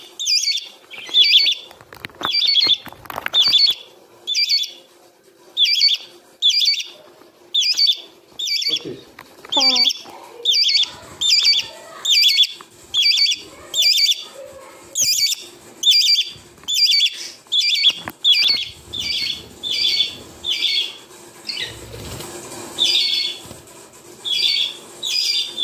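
Pet baby birds squawk loudly and close by at feeding time, with shrill bursts repeating in a steady, insistent rhythm of around thirty calls and short gaps between them.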